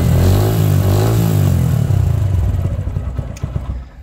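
A motorcycle running on a lithium LiFePO4 battery idles loudly and close, its engine rumble steady at first, then loosening into uneven chugging pulses as it settles.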